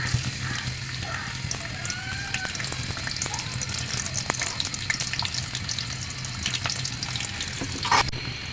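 Chopped garlic and onion frying in hot oil for dal, a close, continuous crackling sizzle with scattered pops and occasional stirring scrapes throughout.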